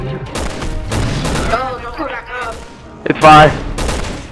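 Gunfire in the video game Resident Evil 6, several sharp shots in quick bursts with a louder crack near the end, mixed with game voices and a brief spoken line.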